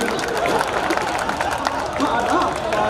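Audience at a Hindi comic poetry recital giving sustained applause, a dense wash of clapping with crowd murmur and voices blended underneath.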